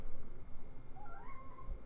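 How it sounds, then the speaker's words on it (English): A house cat meows once in the background, a brief rising and falling cry that sits faintly under low room noise. "I don't know if you heard my cat in the background."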